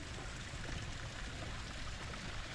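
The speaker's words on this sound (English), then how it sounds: "So little waterfalls here." Small waterfalls trickling near a volcanic steaming area by Yellowstone Lake, a steady, soft babbling rush of water with no pauses, moderately quiet and continuous, with no talking.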